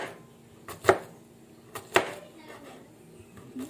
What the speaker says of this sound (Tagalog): ang gagawin ko naman, magagayat naman ako ngayon ng sip ng luya